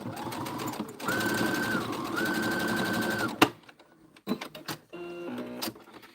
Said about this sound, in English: Just carry it over and sew it right on top there.